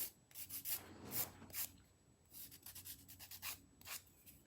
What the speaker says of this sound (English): you do want to make sure that you don't file too much either, because then you're just kind of filing the dip right off